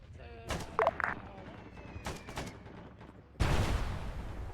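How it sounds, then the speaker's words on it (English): Incoming mortar fire in a military video game, a few scattered sharp impacts early on, then a loud heavy blast near the end that rolls on into a sustained rumble. "Incoming mortars."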